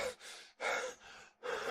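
A man gasps hard after heaving a dead body off himself in autumn leaves and dirt, three ragged, loud breaths close up with short pauses between them and no talk.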